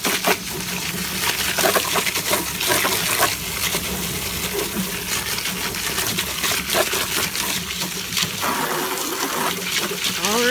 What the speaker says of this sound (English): And then I'm just gonna spray some water in there.